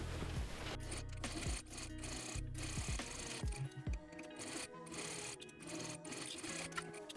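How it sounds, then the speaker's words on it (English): A sewing machine stitches across fabric apron straps for a traditional dirndl dress, running in quick bursts with short pauses between runs. The whirring is fairly quiet and overlaid by other steady tones. "So let's just sew right across here and then the other strap onto the other side"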